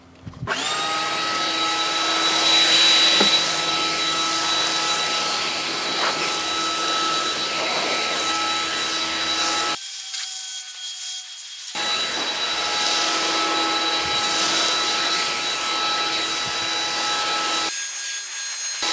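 A Stihl battery handheld leaf blower, rated at 15 newtons of force, runs loud and steady with a high whine, cutting out briefly twice before resuming.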